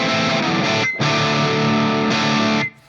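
Ibanez AS7328 baritone guitar strummed in distorted barre chords higher up the neck, two thick sustained chords with a brief gap between, loud and close, ending abruptly.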